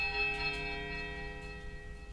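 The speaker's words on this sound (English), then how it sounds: "A mournful chime." Temple bell in the video game Pillars of Eternity, ringing in the Temple of Eothas upper level, one struck chime with a long sustained tonal ring that slowly fades.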